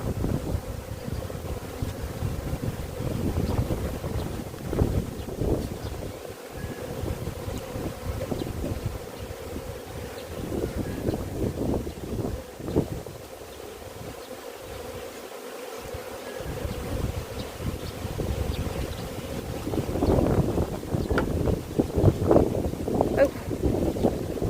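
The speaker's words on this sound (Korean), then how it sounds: "이렇게 바람이 불어서" Strong wind buffets the microphone in low, rumbling gusts that come and go throughout, with a faint buzz of bees underneath.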